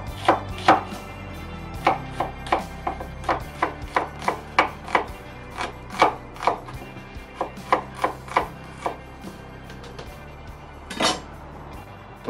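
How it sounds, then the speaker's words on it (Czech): A knife chops a peeled onion into long strips on a cutting board, with a steady series of crisp, close, evenly paced taps and no talking. "Vidíte, mám tady oloupanou cibuli, takže normálně ji klasicky jenom nakrájíme."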